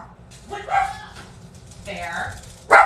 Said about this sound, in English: my dog's barking like an idiot